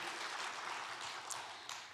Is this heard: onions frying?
no